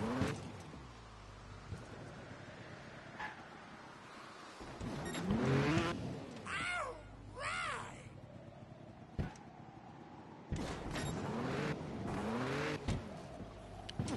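Motorbike engine in the Trials Evolution video game on a castle track with a suspended cage: bursts of revving and whining motor pitch rise and fall between quieter idle stretches, with a voice talking over parts of it.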